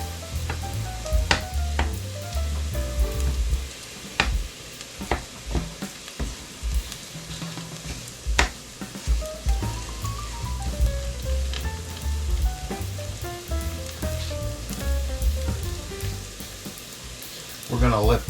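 Potatoes fry in a skillet for a breakfast bowl, with a steady sizzle broken by scraping and clinking as a utensil stirs and spreads them.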